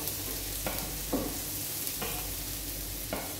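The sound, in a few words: onion and garlic sautéing in a pan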